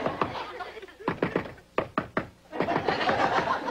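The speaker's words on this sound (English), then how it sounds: "Did I hear a knock?" Several sharp knocks on a door in a sitcom scene, a quick cluster of raps with pauses between, heard amid room noise and a studio audience.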